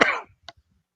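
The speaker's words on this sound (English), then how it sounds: "There's a reason I'm coughing." A single harsh cough up close, followed by a faint throat sound and a short tail, heard alone with no speech.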